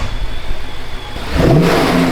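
A turbocharged V8 BMW built to around 700 horsepower accelerates hard from a roll, its engine note building from a low drone into a loud, rising rev heard from inside the car.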